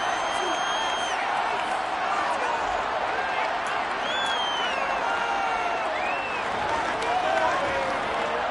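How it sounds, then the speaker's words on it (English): A football stadium crowd at a Jets at Saints game shouts and cheers while watching a replay, a dense, sustained roar with scattered whistles and whoops, with commentary voices over it. "Plenty of shouts from this crowd as they watch the replay"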